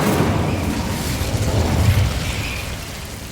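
A fiery Incendio spell blast in Hogwarts Legacy, a loud whooshing burst of flame with a deep rumbling boom that swells and then trails off.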